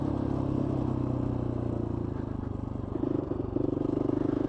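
A GPX FSE250e electric trail motorcycle accelerates on a road test with a loud, close drivetrain whine and clattering rumble that swells toward the end, and nobody talks.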